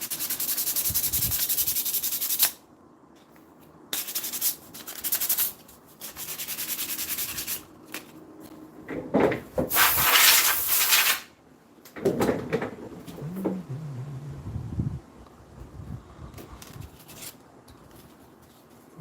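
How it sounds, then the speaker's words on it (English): Hand sanding of curved masks, with bursts of dry scratchy rubbing that start and stop in irregular strokes, loud and close, separated by brief quiet gaps and light handling knocks. "That's what makes them such a pain to have to sand down."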